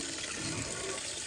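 Water pours steadily into a pig feed mixture, a close, continuous splashing and gurgling with no other sounds.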